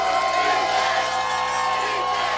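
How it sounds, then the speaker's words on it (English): Dense, steady crowd noise from the stands at a high school homecoming football game between Grandview and Belton, with cheering and whoops held at a constant loud level throughout. "listen to this crowd"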